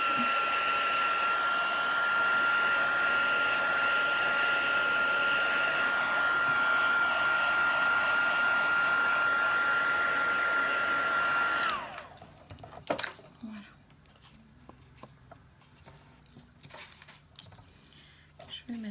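An embossing heat gun blows hot air over a handmade butterfly card, a loud, steady whooshing hiss held close for about twelve seconds before cutting off abruptly, followed by quiet handling noises.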